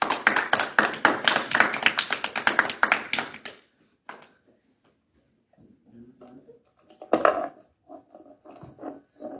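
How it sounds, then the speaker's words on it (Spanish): Congregation applause at a Sunday church service, a dense burst of many hands clapping loudly for about four seconds, then fading into scattered claps, shuffling and murmuring, with a brief swell of voices near the end. "vamos a recibir al Cacho con un aplauso"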